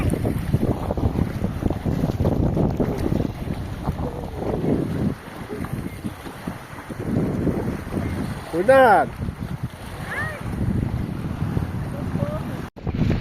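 Strong wind roars steadily over a reservoir beside a campsite, buffeting the microphone with gusty noise, while a person speaks briefly and a bird calls faintly partway through.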